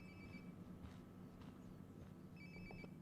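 A phone rings in another room in Life is Strange: Before the Storm, a faint, muffled electronic ringtone heard twice, at the start and the end, over a low background murmur.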